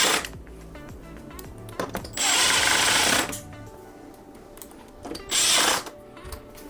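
A power drill drives four black screws back into a fifth-generation taillight after a blind spot sensor install, in two short whirring bursts, the first longer than the second, with quiet gaps around them.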